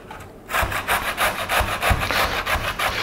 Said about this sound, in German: Wir reiben den einfach über die grobe Reibe.